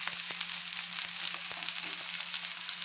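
Chilli powder frying with tomato and capsicum in hot oil for a cauliflower chicken dish, a steady bright sizzle with occasional soft stirring clicks, close and continuous.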